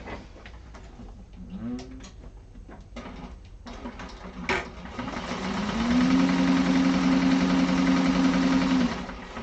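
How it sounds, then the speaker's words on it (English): A sewing machine top stitches folded fabric edges at a 1/8-inch seam allowance on a satchel exterior. A few soft handling clicks come first, then a steady, close, continuous whirring run fills the last few seconds. "we're going to top stitch those folded edges with an 1/8 of an inch seam allowance"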